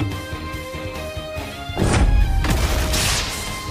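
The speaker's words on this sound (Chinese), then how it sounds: "只听一声震天的爆炸声从地面之上传来" A loud explosion booms in a fantasy battle at Flower Fruit Mountain, a sudden broadband crash rising over an orchestral music bed and ringing on for a couple of seconds.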